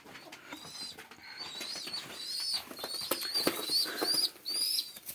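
A pet pigeon in Jalilabad beats its wings in quick fluttering bursts close by, mixed with high chirps from other birds and no speech.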